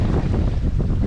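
Steady wind rushing and buffeting across a sailboat out on the water after a race near Poplar Island, a continuous broadband roar with no talk.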